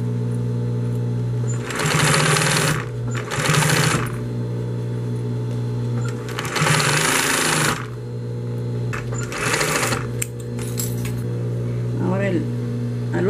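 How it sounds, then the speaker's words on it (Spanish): A sewing machine topstitches a bag lining in several short, close bursts of rapid whirring stitches, separated by pauses over a steady motor hum, with a voice speaking between runs. "hacemos un segundo despunte para poder sujetar el forro"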